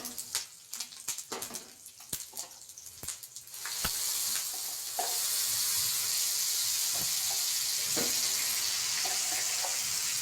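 Tomatoes hit a hot pan with curry leaves and chilies for a spicy South Indian tomato thokku. After a few clinks, a loud steady sizzling hiss sets in close by and runs on without voices.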